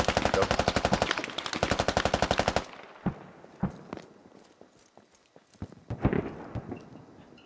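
Automatic gunfire from a nearby squad in the SQUAD military shooter game, a loud fast rattling burst for a few seconds, then scattered single shots and short bursts that come and go.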